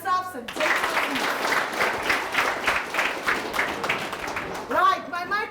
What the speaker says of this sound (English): Now clap for yourselves and take a seat